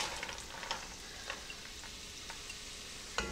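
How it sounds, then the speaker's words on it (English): Steady sizzle of diced carrot, celery and onion frying in butter in a pan, a soft crackling hiss with occasional small pops and stirring scrapes, close and moderately quiet. "we got a nice sizzle going on with the butter"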